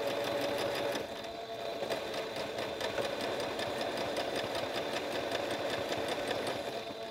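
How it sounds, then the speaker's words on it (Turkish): A sewing machine stitches stretched fabric along its edge on a normal setting, a continuous fast, even rattle of the needle running loud and close throughout without pause. "Sadece biraz kumaşı böyle çekerek, esneterek dikiyorum Derya Hanım."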